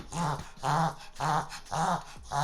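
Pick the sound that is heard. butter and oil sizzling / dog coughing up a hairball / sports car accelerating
dog coughing up a hairball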